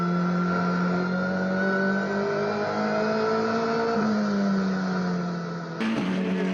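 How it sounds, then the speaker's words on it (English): Touring race cars, a Toyota and a Jetta, battling in a Global Touring Car race at Aldo Scribante circuit in Port Elizabeth, with a loud sustained engine drone rising in pitch under acceleration and a sharp shift in tone near the end. "Van Rooyen in that Toyota just losing a little bit of ground here and needing to make it up in a hurry."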